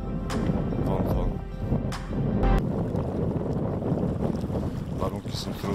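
Strong wind on a lake buffets the microphone in a continuous roar with gusty thumps, water and fishing boat noises mixed underneath.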